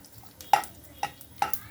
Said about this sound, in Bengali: এখন দিয়ে দেবো 2টো শুকনো লঙ্কা 2 টুকরো করে, আর 1 ছোট চামচ সর্ষে ফোড়ন